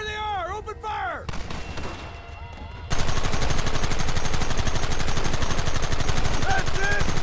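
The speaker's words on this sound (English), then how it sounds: "Open fire!" Heavy gunfire in the Western video game Red Dead Redemption: after a few seconds of voices and music, a dense, loud barrage of rapid shots and rifle fire starts abruptly and continues to the end, with shouting mixed in.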